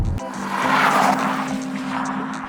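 A BMW i7 electric luxury car accelerates hard on boost, its motor whine rising in pitch through several sweeps with road and wind noise building, close and steady with no talk.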